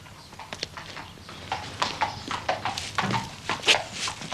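Several horses clip-clopping on a hard surface at a riding stable, a steady run of hoof strikes that grows louder and closer, with no talk over it.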